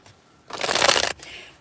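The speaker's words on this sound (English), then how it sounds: "As I'm shuffling" A deck of cards riffle-shuffled for a reading: one brisk, close burst of papery flutter lasting about half a second, then quiet.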